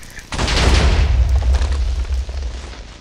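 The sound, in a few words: TNT exploding in Minecraft video game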